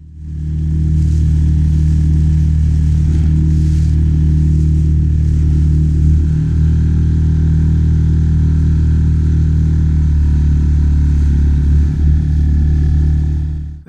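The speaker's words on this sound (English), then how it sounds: "The 6 horsepower outboard takes it all in its stride, around 3/4 throttle" A 6 horsepower boat outboard motor runs at about three-quarter throttle along an exposed coastline in a swell, a loud, steady low drone with a slight clatter, continuous and close throughout, with no voices.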